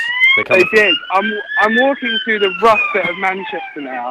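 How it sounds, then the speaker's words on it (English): A police siren wails loudly along a street in Manchester, its rising and falling tone passing close by while someone talks over it. "We got a siren going on."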